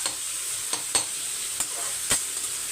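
Vegetables sauté in a pan at home, a steady gentle frying hiss punctuated by a few sharp spatula scrapes and clinks against the pan, close and alone.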